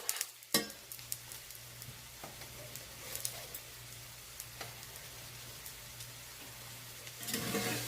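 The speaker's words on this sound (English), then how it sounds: "you want to saute these until the onions are transparent" Onions and vegetables sauté in a frying pan with a steady quiet sizzle and occasional scrapes and clinks as they are stirred.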